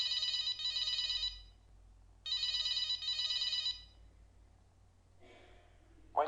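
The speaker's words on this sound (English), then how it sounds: "from which the user can hear a ringing tone." A telephone ringing tone heard by the calling party during 3G call setup plays in two steady buzzing bursts separated by a pause, fairly faint, followed by a soft breath-like noise.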